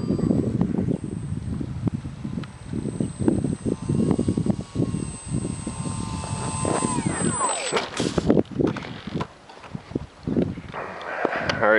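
A scratch-built foam board 3D RC plane flies in to land, its thin electric motor whine holding steady and then dropping in pitch as it throttles down, while someone talks throughout close to the microphone.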